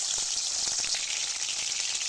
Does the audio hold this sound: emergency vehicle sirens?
no